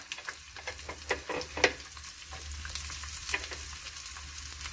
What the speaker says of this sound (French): Rajouter l'ail, remuer.